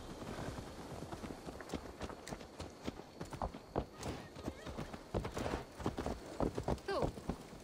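Horse hooves clip-clop in a steady walking rhythm in Assassin's Creed Valhalla, close and moderately loud, with a horse whinny near the end and game ambience underneath.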